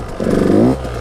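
A motorcycle engine revs briefly and loudly as the clutch is released in first gear for a wheelie, one short rising burst lasting under a second.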